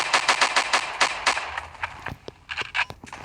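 Gunfire from a single-shot long-range gun in the Blockman Go video game: a quick run of sharp shots gives way to sparser, scattered cracks, with no voices.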